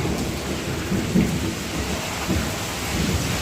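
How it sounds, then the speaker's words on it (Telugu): Low rumbling thunder rolls under steady rain during a lightning storm, with no voices. "చూశారు కదండి ఉరువులు మెరుపులు"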